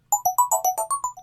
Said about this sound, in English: cell phone rang